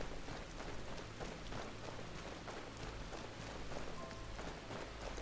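Steady rain falls in the video game Skyrim, pattering on foliage and ground as a dense, even hiss that holds for several seconds with no voices over it.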